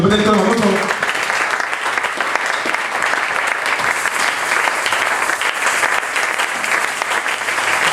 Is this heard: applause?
yes